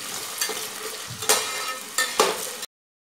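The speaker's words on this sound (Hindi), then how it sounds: "अच्छे से हमें चला लेना है और फ्राई कर लेना है गोल्डन ब्राउन होते तक" Carrots stir-fried in a pan for vegetable pulao, a steady sizzle broken by a few sharp scraping stirs of the spatula, close and alone with no talk.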